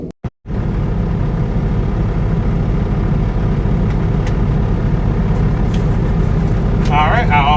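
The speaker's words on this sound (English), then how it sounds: "So you'll get to hear the truck serenading you while the mic charges up." A parked truck's engine idles at a delivery stop near Buford, Georgia, a loud, steady, close low rumble that runs without a break after a few brief knocks at the start.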